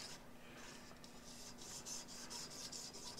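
A plane blade is rubbed back and forth on a 1000 grit whetstone, giving a faint, soft, rhythmic rasping scrape of steady strokes close by.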